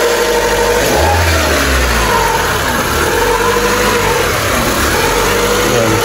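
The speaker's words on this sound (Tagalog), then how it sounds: "Pansin nyo yung RPM, pakinggan ninyo, naglalaro siya. Unstable idle." A car engine idles roughly at a raised speed around 1,500 RPM, its revs wavering up and down unsteadily as a loud, continuous close-up drone with no break.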